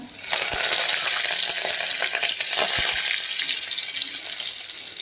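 Chopped garlic sizzles and crackles steadily in hot oil in a pan, with a few sharp pops and clinks of stirring, loud and close with no talking.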